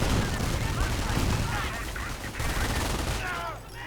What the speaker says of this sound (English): tons of machine gun fire, tons of submachine gun fire, just threatening to tear through the riflemen